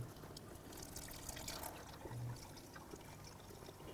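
Power steering fluid drains from a disconnected car line, a faint steady trickle and pour of liquid running alone without talk.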